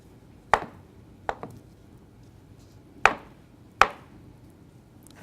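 A knife chops vegetables for corn and avocado salsa on a cutting board, four distinct sharp thuds with uneven gaps and quiet pauses between, close and clear with no talking.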